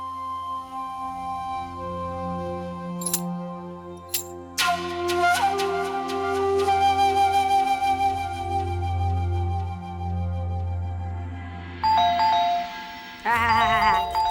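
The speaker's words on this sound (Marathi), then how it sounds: "कशी दणा दणा दणा दणा उर्मटासारखी बेल वाजवते" Doorbell rung repeatedly at a house gate at night in a Marathi TV drama, ringing chime tones repeating over a sustained musical background, with brief voice sounds.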